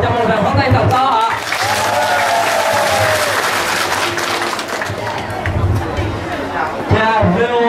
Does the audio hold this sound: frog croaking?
no